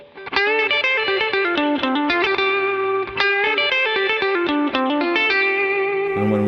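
Fingerpicked electric guitar lick, a clean, lightly chorused tone with rapid, articulate notes and bends, played steadily and alone.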